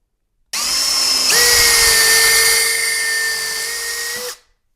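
A power drill with a Forstner bit bores through a 3D-printed jig for a square baluster install, one steady loud whine lasting about four seconds with a pitch shift partway through, alone with no talk.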